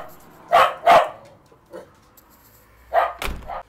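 A dog barks in the distance, a few separate sharp barks spaced out: two close together, a faint one, then two more near the end, with no talk.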